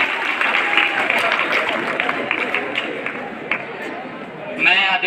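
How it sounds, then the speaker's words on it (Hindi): Students at an inter college break into a burst of applause, dense clapping that continues steadily and rises again near the end, with voices and chatter mixed in. "इनके लिए जोरदार ताली बजाइए।"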